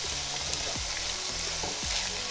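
Ackee and saltfish ingredients fry in a pan with an even sizzle, while a utensil stirs and scrapes a few times, close up and with no one speaking.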